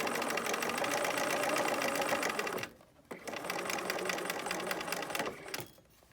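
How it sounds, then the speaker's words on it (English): A sewing machine stitches a curved fabric seam in two loud, close, rapid bursts, pausing briefly between them and stopping at the end. "I'm going to start stitching about where the second layer starts in"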